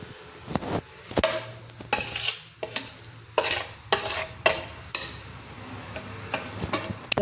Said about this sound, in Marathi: आता हे मिक्स करायचं आहे छान.